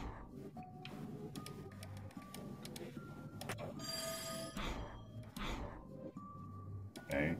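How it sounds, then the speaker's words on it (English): A teletrophone prototype rings inside a video game, with short mechanical bell-like trills and rattling bursts over a busy, humming background. "What was that sound like a ringing bell? I think it came from this odd device."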